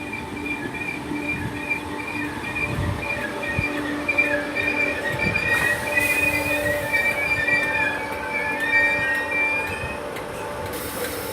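Class 508 electric train 508136 on a Merseyrail service passing through Kirkdale station, heard as a loud, steady rumble of wheels on track with prolonged high-pitched squealing throughout.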